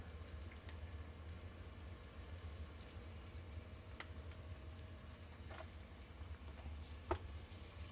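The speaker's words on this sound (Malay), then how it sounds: "Now you can see it sizzle" Blended ginger and garlic paste for Malaysian corn rice sizzles in a hot pan, with a steady low frying hiss and a few brief crackles and clicks, the loudest near the end, and no voices.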